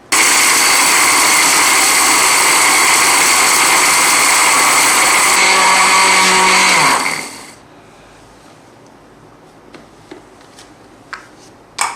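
An electric grinder whirs loudly and steadily while grinding whole spices into Nehari masala powder, then winds down and stops after about seven seconds, followed by faint knocks and taps.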